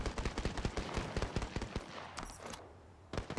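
Rapid bursts of automatic gunfire in the Apex Legends Mobile battle royale game, close and loud, with a short pause before another shot near the end.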